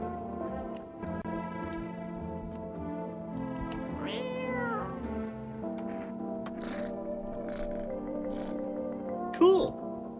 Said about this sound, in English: Hey, the cat!